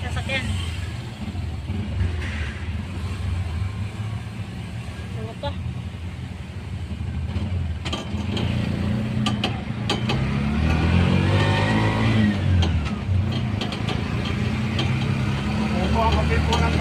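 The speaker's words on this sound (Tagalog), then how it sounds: "daming sasakyan." Heavy traffic with many cars and vehicles on a busy Quezon City road near the C5 flyover, a steady loud rumble of engines close by and throughout, with a brief voice speaking over it.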